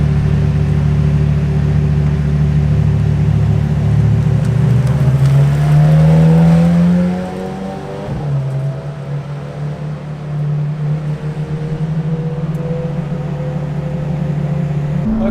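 A McLaren Senna supercar in race mode, its engine droning loud and close with a climbing rev that peaks, drops abruptly and settles into a steady, humming idle.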